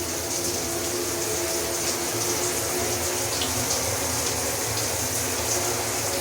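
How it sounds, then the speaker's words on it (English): Hot water runs steadily from a tap, a constant hissing splash with a low droning hum beneath it, unbroken throughout and fairly close. "Let me just shut off the hot water so I don't lose it all."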